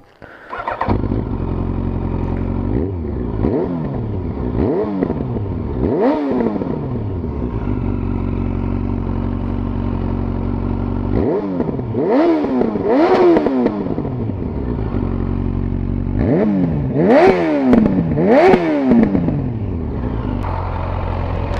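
Yamaha Fazer motorcycle fitted with a MIVV Strom GP exhaust, idling with a steady low rumble and then revved repeatedly in sharp bursts that rise and fall, loud and close, with no one talking.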